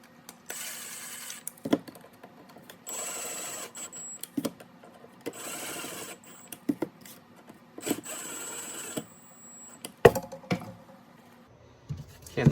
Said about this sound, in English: I like to use a drill just to make this process a little faster with a properly sized Phillips bit in there